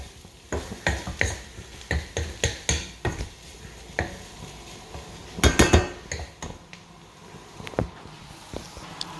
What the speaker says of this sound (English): bigger wok because I haven't got the skills to mix without spilling everywhere